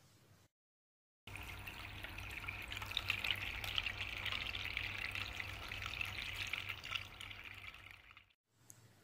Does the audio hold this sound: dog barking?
no